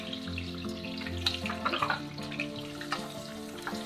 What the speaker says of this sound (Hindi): और इसको कुछ देर भूनेंगे गुलाबी होने तक।